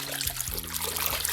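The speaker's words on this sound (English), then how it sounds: "I'm going to gently mix it into the water" Wig washing water being gently stirred by hand after conditioner is added, a soft continuous trickling and swishing of liquid, steady and close.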